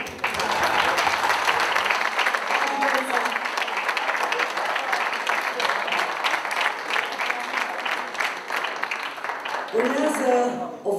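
A festival audience in a hall breaks into sustained applause, dense rhythmic clapping that fills the room, with a voice speaking briefly at the start and again near the end.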